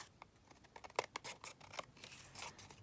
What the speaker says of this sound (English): I'm just going to trim this up slightly on this edge